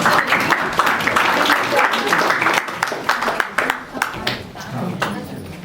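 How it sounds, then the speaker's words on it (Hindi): Audience applause at a Bharat Vikas Parishad quiz competition held at a university in Haridwar, a dense burst of clapping that carries on for several seconds and thins out toward the end, with voices mixed into it. "जोरदार तालियां प्लीज"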